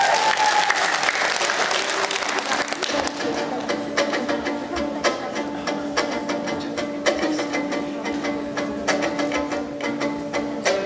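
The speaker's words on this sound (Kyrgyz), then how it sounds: "Кол чабуулар болсун." An audience at a Kyrgyz aitysh improvised-poetry contest breaks into sustained applause, a thick wash of clapping that slowly thins, with a faint tonal hum and some voices mixed in.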